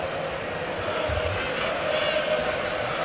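Steady, dense roar of a football stadium crowd at a Barcelona v Liverpool 2001 UEFA Cup semi-final, continuous and fairly loud with no distinct peaks.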